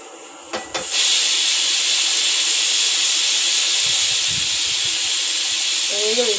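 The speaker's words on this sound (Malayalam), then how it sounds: "ഏഴ് വിസിലായിട്ടുണ്ട്." A pressure cooker cooking beef roast releases steam through its whistle: a loud, continuous hiss bursts in after a second and holds steady to the end, with faint low sounds beneath it.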